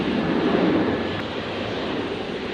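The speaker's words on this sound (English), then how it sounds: "Just waiting for that heavy 350 to accelerate" Heavy Airbus A350 jet on the runway, a broad steady roar of engine noise hanging at an even level throughout with no clear rise, heard from a distance with no voices.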